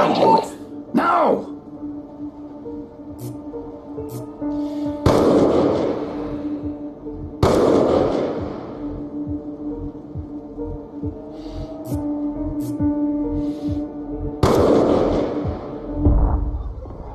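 Heavy gunfire in the video game Call of Duty Black Ops II: four loud, booming shots spaced a few seconds apart over a steady low hum, with voices talking in between.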